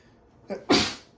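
A single close, loud sneeze, preceded by a short sharp inhale.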